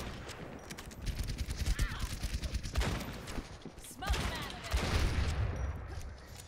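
Rapid gunfire bursts in the video game Overwatch, a dense rattle of shots in quick repeated volleys close up, with brief pauses between bursts.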